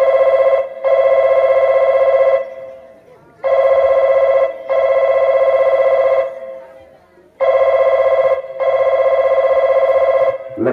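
A telephone bell rings in repeated double bursts with short pauses between them, loud and close.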